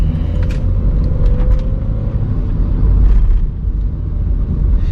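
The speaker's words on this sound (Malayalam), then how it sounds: "നമ്മളതിൽ എ സി ഇട്ടില്ലെങ്കിൽ അത്യാവശ്യം എഞ്ചിൻ്റെ നോയ്സ് കേൾക്കുന്നുണ്ട്" A 2015 Volkswagen Polo GT TSI engine heard from inside while driving, a steady low rumble and road drone with a faint whine, continuous and fairly loud without speech.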